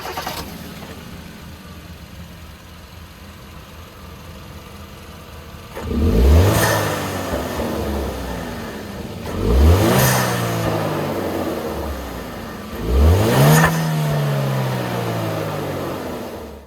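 A 2018 Hyundai Elantra Sport's 1.6-liter turbo engine with a colder intake idles quietly, then is revved hard three times at steady intervals, each loud rise falling back to idle, with no talking.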